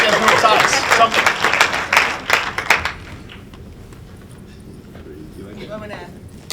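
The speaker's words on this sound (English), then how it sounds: "Let's give her a round of applause." Applause from a seated audience at a New Jersey municipal league panel on the demographics of public officials, a dense burst of clapping for about three seconds that quickly thins and fades, followed by quiet room tone.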